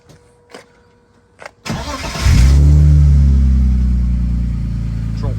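A drift car's engine cranks and fires after a few faint clicks, then settles into a loud, steady rumbling idle close by, with no talking.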